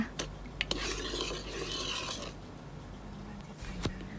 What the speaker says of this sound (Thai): คนให้น้ำตาลละลายนะคะ